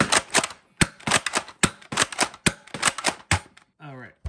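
An Adventure Force Villainator toy blaster fires eight rounds from a Superdrum, a quick series of sharp, close plastic snaps and thumps in an uneven rhythm, followed by a brief voice at the end.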